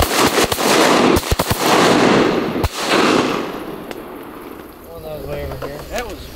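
Shotgun blasts while duck hunting teal in willows, several sharp loud reports close together early on, followed by quieter outdoor ambience as people talk.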